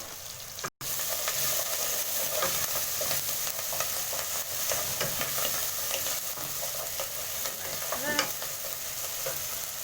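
Green pepper and fresh coriander sizzle steadily in a hot pan while cooking matoke ya nazi, a dense continuous frying hiss with occasional stirring scrapes, close and loud throughout.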